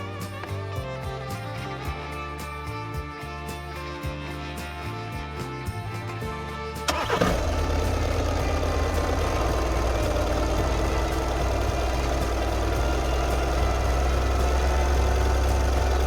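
An Audi Q3 TDI diesel engine cranks and catches at about seven seconds after an oil service, then settles into a steady, loud, rumbling idle that continues to the end.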